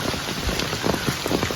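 Rain falls steadily on a road, a dense, even hiss of drops with no voices.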